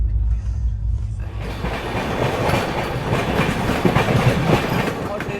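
Rhythmic wheel clatter and a steady rumble from the Howrah-Guwahati Saraighat Express passenger train rolling on the rails, heard loud and close from aboard after a quieter opening moment, with faint talk in the background.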